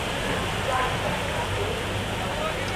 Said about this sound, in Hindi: ये देखो क्या तगड़ी बारिश है भाई गाज़ियाबाद में